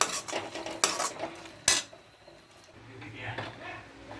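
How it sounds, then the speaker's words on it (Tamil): A spoon clatters and scrapes against a cooking pot while curd is stirred and sautéed for prawn biryani, with several sharp metallic knocks followed by softer, quieter stirring. "தயிரை ஆட் பண்ணிவிட்டு கொஞ்சம் நல்லா வதக்கிடலாம்"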